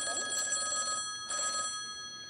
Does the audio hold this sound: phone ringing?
yes